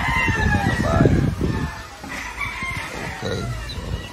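Chickens and roosters in outdoor breeding pens, including Lemon 84 gamefowl, crowing and clucking at close range with overlapping calls and someone talking over them.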